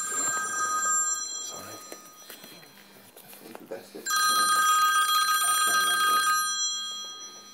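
A telephone bell rings in loud bursts indoors, a long sustained ring near the end, with a room's movement and clatter between the rings and no talk over them.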